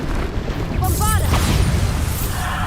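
A booming Bombarda blast in Hogwarts Legacy, a loud low rumbling explosion with a bright crack, overlapping a shouted voice and other in-game effects.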